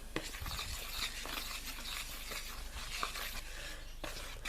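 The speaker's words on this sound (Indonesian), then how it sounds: "Selanjutnya kita bisa aduk hingga rata." Soft, steady scraping and rubbing of a spoon stirring thick flour dough with salt and bouillon powder in a bowl, close up and fairly quiet, with no voices.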